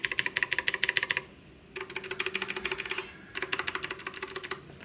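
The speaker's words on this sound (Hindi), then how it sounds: "इसका मैं की प्रेसिंग का आपको आवाज़ सुना देता हूँ। अभी मैं पहले है ना फास्ट दबाऊंगा" Fast typing on a Cosmic Byte Vanth mechanical keyboard with clicky Outemu Blue switches: rapid, evenly spaced key clicks in three bursts separated by short pauses, close and clear with no talking.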